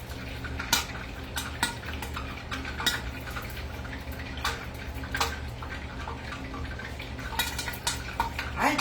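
Flour-dredged cube steaks pop and sizzle in a frying pan, with a steady crackling hiss punctuated by frequent sharp spits and pops, loud and close, no voices.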